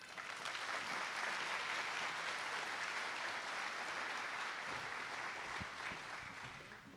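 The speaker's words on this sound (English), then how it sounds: "please give a warm round of applause to our keynote speaker, Sasha Simmons." Sustained audience applause fills a hall at a college honor society induction ceremony as the keynote speaker is welcomed, steady clapping that swells and then slowly tapers off.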